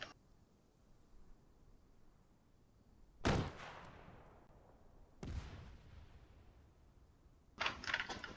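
Rocket launcher fire in Arma 3, with two separate loud launch blasts a couple of seconds apart, each followed by a long decaying rumble, and a sharper burst near the end.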